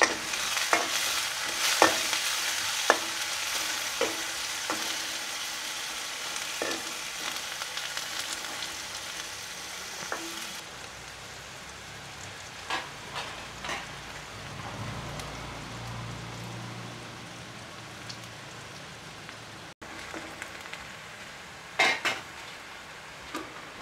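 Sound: onions, chilies, curry leaves and pandan leaves frying in oil

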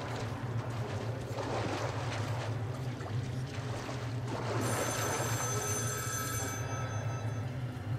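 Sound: telephone ringing underground in video game Metro Last Light

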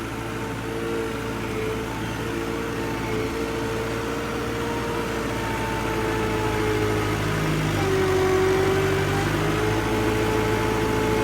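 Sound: tractor engine running

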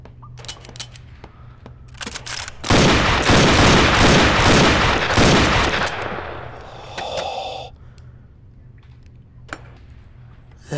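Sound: gunfire from a gun in the VR game Gun Club VR

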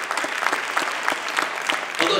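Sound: audience applause for hypnosis show volunteers

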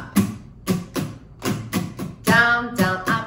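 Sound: acoustic guitar strumming pattern down down up up down up

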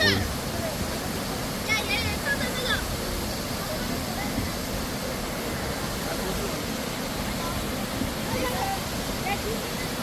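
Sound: waterfall

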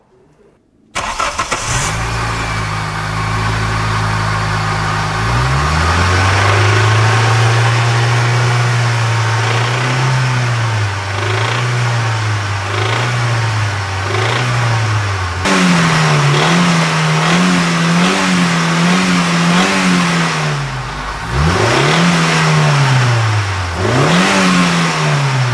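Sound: car engine running and revving with unusual knocking noise

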